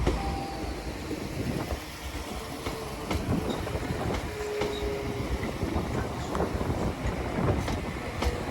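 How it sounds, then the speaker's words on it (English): A West Midlands Railway passenger train, unit 196110, rumbles past close by at Shrewsbury, wheels clattering steadily over the rails with a continuous roar and no voices. "there goes 196110 working a West Midlands Railway service to Birmingham New Street from Shrewsbury"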